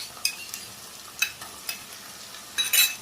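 Ginger garlic paste fries with onions, curry leaves and coriander in a pan, a soft steady sizzle broken by several sharp scraping stirs of a spoon, close up with no talking.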